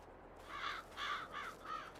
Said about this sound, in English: Birds trying to get into the fertilizer.